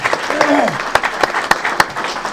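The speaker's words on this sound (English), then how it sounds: "Let's give him a round of applause." Applause at a city council meeting, scattered sharp claps over a murmuring crowd, with a voice speaking briefly at the start.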